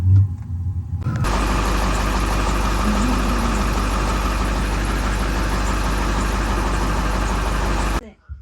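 A diesel heater fitted with new ducting runs steadily and loudly, starting abruptly after a brief quiet moment and droning evenly until cutting off near the end, with no talk over it.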